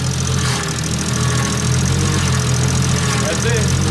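A 1JZ-swapped Nissan S14 engine idling with a steady low rumble, close and continuous, with people talking over it.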